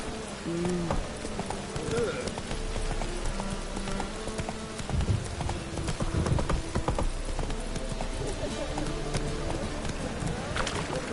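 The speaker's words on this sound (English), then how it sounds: "Whoa there, Roach" Hooves clip-clop in a fast, galloping rhythm as a horse runs in The Witcher 3, loud and continuous throughout, with someone talking over the hoofbeats and a brief whinny.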